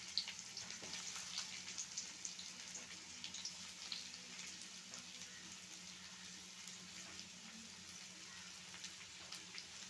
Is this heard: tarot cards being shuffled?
no